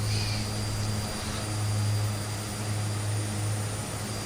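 An Aerosoft Twin Otter, a twin-engine propeller plane simulated in Microsoft Flight Simulator 2020, drones steadily in flight with a loud, even engine hum and low tonal propeller buzz.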